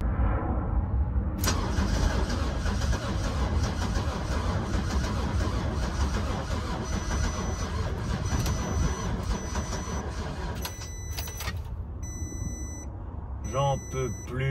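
A car engine cranks continuously as someone tries and fails to start it, a steady loud churning that runs over ten seconds before stopping, followed by a few chimes and clicks.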